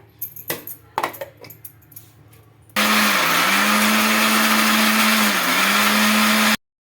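A kitchen mixer grinder whirs loudly and steadily as it blends potato pieces with water into a smooth paste, starting abruptly after some clinking and stopping suddenly.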